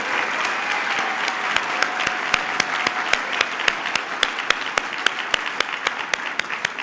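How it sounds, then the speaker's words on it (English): A round of applause fills a Stephens College commencement ceremony, steady and sustained from a large audience, with sharp rhythmic claps from one nearby person standing out above the crowd. "I ask that let's do another round of applause."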